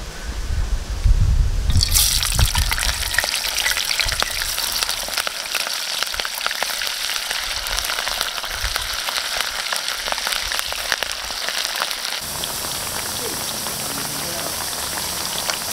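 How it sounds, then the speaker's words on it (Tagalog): Sun-dried binagoongan shrimp paste hits hot oil with a sudden loud hiss that settles into a dense, steady sizzling crackle, easing slightly softer toward the end. "Pagtapos natin bilad sa araw ng 5 oras, iprito natin."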